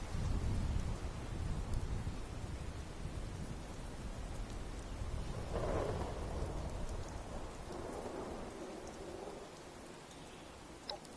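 Thunderstorm in the Fallout 76 video game, with steady heavy rain and a deep rolling rumble of thunder swelling in the middle, loud and continuous with no voices.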